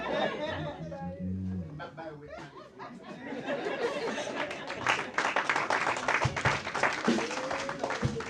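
Church congregation applauding and clapping amid chatter and light laughter, starting under a speaking voice and swelling into louder, sustained clapping through the rest.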